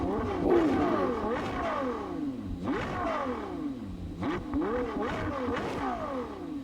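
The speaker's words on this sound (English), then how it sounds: "Beautiful. V12 Ferrari." A parked Ferrari Daytona SP3 with a V12 engine and dual exhaust revs three times, each rise and fall of engine pitch rough and throaty, heard close up with a faint voice in the background.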